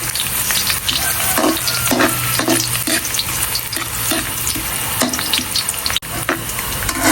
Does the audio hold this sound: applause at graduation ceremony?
no